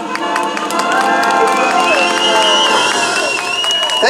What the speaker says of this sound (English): Thank you for that unsolicited applause.